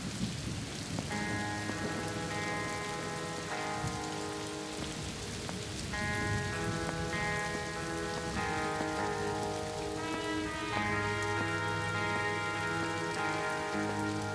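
Steady rain hisses down over a city, with soft music of long sustained tones, a constant wash of falling water throughout.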